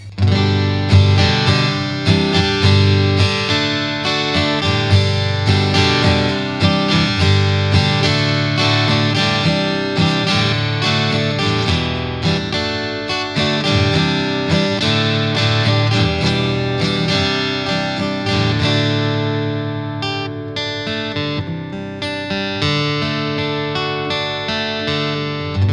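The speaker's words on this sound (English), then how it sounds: "I'm going from my Taylor 110E straight into the amp" A Taylor 110E acoustic guitar runs straight into a BOSS Katana 50 MKI amp with reverb, producing loud, continuous strummed chords with a full, washed sustain throughout.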